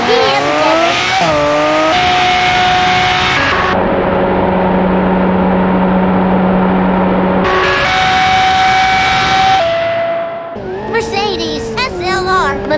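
A Porsche 911 Turbo in BeamNG.drive screams at full speed with rising and shifting engine tones, then a brief crunching clatter near the end, with a voice talking over part of it.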